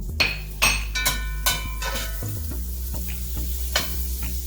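Butter sizzles and crackles steadily in a hot, lightly smoking cast iron skillet on the stovetop, with a few scrapes and clinks of a utensil against the pan.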